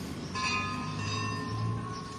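A church bell rings out with a sustained, resonant tone that hangs in the air over faint background noise.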